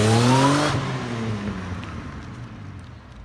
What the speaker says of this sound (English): I know you guys heard that supercharger, come on.